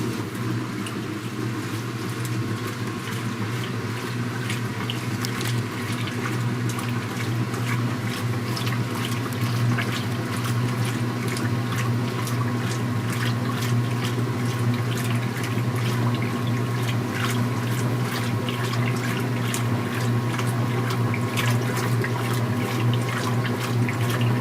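A Speed Queen washing machine, converted to a Series 9, fills its tub with water at a medium soil level, making a steady, continuous rushing pour that stays loud and even throughout with no talking.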